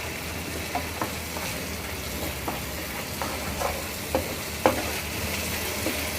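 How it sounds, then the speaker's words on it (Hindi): A spatula presses tomatoes into frying gravy, making a continuous low sizzle broken by soft, irregular scrapes and taps against the pan. "ऐसे स्पैचुला की मदद से हम टमाटर को प्रेस कर लेंगे"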